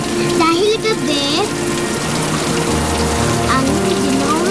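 Steady rain falling on an outdoor street at night, a dense continuous patter filling the whole stretch, with voices and tonal sounds carrying over it.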